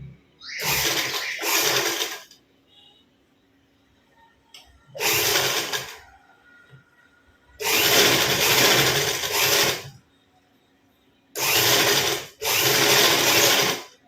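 Sewing machine stitching the sleeve of a high-neck blouse, running in four separate loud bursts of steady whirring with short quiet gaps between them, close by and alone with no talk.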